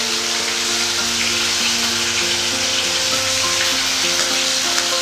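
A paste of ground coriander, cumin, fennel and ginger frying in a pan for a Bengali fish curry, giving a loud, steady, close sizzle that runs unbroken throughout with no talk.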